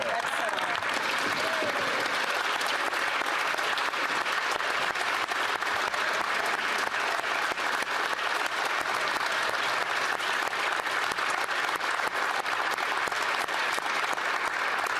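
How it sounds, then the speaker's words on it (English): Sustained applause fills a parliamentary chamber during question period, a dense steady wash of many hands clapping at even loudness throughout, with faint voices beneath it. "Why is the speaker clapping?"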